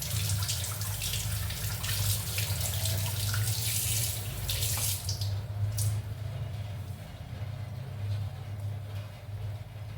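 Tap water runs steadily into a sink while kudampuli (Malabar tamarind) is rinsed for a coconut fish curry, a continuous close splashing rush with occasional handling clatter and no talk.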